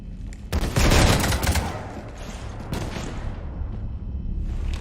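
Sustained burst of gunfire in the Mass Effect 3 shooter game, dense overlapping shots peaking early then settling into a steady rumbling barrage, with no talk.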